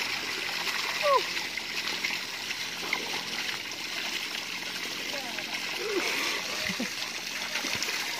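Overflowing water splashing and trickling during an outdoor bath in rural Sorsogon, Bicol, a steady close gurgling wash with occasional splashes, with people talking quietly in the background.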